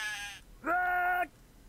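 Sheep in the video game Craft the World bleat twice, a short higher bleat and then a louder, longer nasal one, clear and close with no talking over them.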